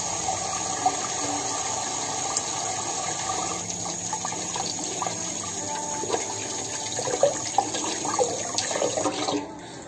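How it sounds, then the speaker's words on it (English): Tap water runs steadily into a sink as hands are washed in a home kitchen, a continuous close splashing stream with small irregular splatters and no talk. "the first tip that we have to do is wash the hands"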